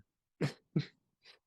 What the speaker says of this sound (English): No, that was a cough.